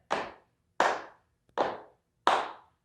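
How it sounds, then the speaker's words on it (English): Four sharp, evenly spaced hand claps ring out close and clear, each with a short decaying tail, keeping time for a children's storytime action song. "We're going to clap and clap, tap"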